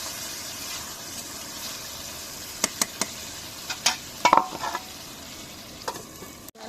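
Spices sautéing in a pan for a bitter gourd and shingi fish curry, a soft steady sizzle broken by several sharp scrapes and clinks of a stirring spoon, close and alone.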